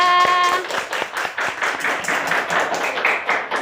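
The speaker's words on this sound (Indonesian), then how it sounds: "Beri tepuk tangan untuk kelompok 3." A classroom of students clapping for a group, rapid irregular hand claps close by that start after a brief tone and continue unevenly to the end.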